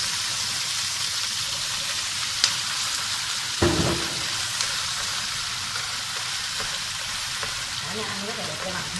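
Supermarket greens stir-fried in a pan, giving a steady loud sizzle with a brief clatter partway through, while a voice speaks faintly underneath.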